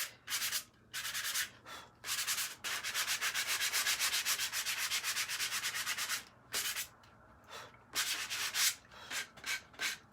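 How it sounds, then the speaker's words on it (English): Coarse-grit sandpaper on a sanding block scrapes rapidly back and forth across wood in loud, close bursts of quick strokes, broken by short pauses, with no talking. "This is a pretty big grit sandpaper."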